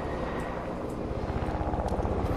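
Helicopters fly overhead in a video game, producing a steady, rhythmic rotor thumping over a continuous low engine drone that holds throughout and grows slightly stronger toward the end.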